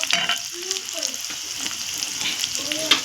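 Spices fry in oil in a pan with a crackling sizzle and occasional stirring scrapes, close up, with faint voices in the background.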